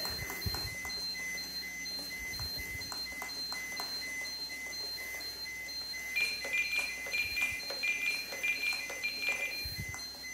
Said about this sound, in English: I'm going to kill the spectrum alarm just so you can see the flasher and the siren on the actual helicopter